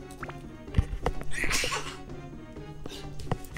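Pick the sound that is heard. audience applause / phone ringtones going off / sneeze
sneeze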